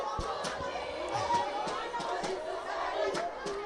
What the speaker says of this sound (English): that the crowd is roaring here today